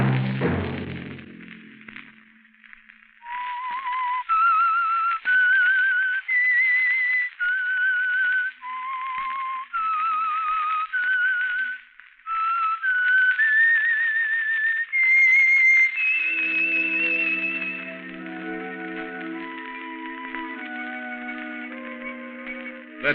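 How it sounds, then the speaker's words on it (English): A whistled melody of steady, clear notes rises and steps along, then gives way to sustained lower tones underneath as the tune ends. "Let that whistle be your signal"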